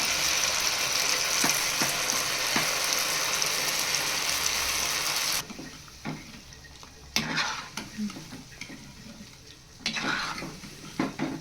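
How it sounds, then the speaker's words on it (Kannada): Cauliflower (gobi) pieces for gobi manchurian fry in hot oil on a low flame, a dense continuous sizzle that drops suddenly partway, followed by intermittent clatter and scraping of utensils in the pan. "ಎಣ್ಣೆ ಬಿಸಿ ಮಾಡ್ಕೊಂಡಿದ್ದೀನಿ ಅದಕ್ಕೆ ಹಾಕ್ಕೊತಾ ಇದ್ದೀನಿ ತುಂಬ ಹೈ ಫ್ಲೇಮಲ್ಲಿ ಬೇಡ ಸಿಮ್ಮಾಗಿನೇ ಇದನ್ನೆಲ್ಲನೂ ಫ್ರೈ ಮಾಡ್ಕೊಬೇಕು ಗೋಬಿನ"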